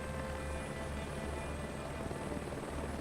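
A helicopter in the Microsoft Flight Simulator 2024 game on a mountain rescue, its rotor and engine making a constant, low, throbbing hum at moderate level with no voices.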